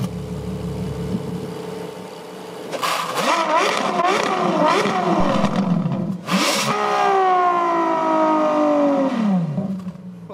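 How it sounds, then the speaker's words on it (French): A LaFerrari's V12 engine idles, then revs hard in two loud bursts, each climbing sharply in pitch and falling away, the second held longer before the engine settles. "on va vous faire écouter un peu le bruit du V12"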